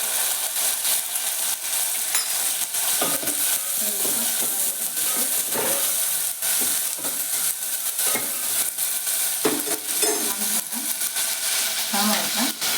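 Mustard seeds and cumin fry in hot oil with a continuous crackling sizzle scattered with small pops, and a voice speaks faintly underneath.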